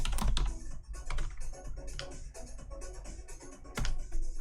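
Rapid typing on a computer keyboard fitted with retrofitted Cherry ML switches, a Kinesis Advantage 1, with close, crisp, irregular clacks in bursts and short pauses and no talking.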